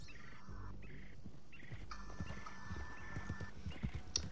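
Hooves clip-clop in a steady trotting rhythm as a horse is ridden in a video game, moderately close, with occasional soft game sounds in the background.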